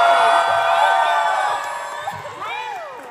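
An audience at a concert at The Town Hall in New York shouts, whoops and cheers in a loud, high-pitched swell that fades somewhat, then rises again with fresh screams near the end.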